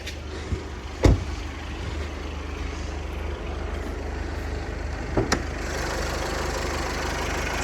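A 2017 Skoda Superb engine idles steadily with a low, even rumble, broken by a couple of brief clicks and knocks; no one speaks.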